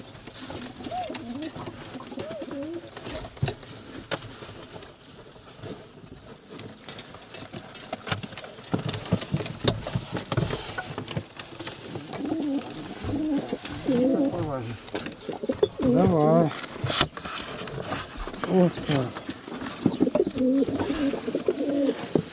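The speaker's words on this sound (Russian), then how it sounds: "Голубенок." A pigeon chick in a nest gives soft cooing calls, close by, while people talk quietly in between.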